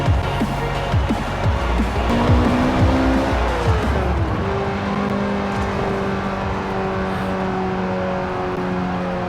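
A Mazda Miata MX-5 drives in the Forza Horizon 4 racing game, its engine revving steadily through shifting gear tones with tire noise throughout. The engine is loud and continuous, with no talking.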